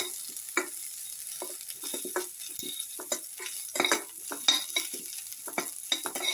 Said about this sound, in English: Put in the ginger and the garlic.